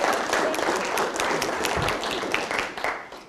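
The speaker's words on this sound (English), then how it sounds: "so give her a round of applause." Audience applause at a city State of the City address, steady clapping from many hands filling the room for a few seconds, with no talk over it.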